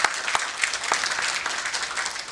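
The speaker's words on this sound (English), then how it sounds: "Can we have a huge round of applause?" An audience at a finance-industry panel discussion applauds a panelist with a steady wash of clapping, moderately loud and without speech.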